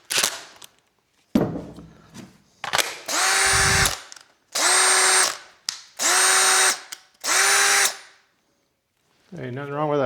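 A Makita DDF482 cordless drill, freshly repaired with a rebuilt armature, runs in four loud, close bursts of steady whine, each spinning up and cutting off, separated by short pauses and clicks, with a brief voice at the end.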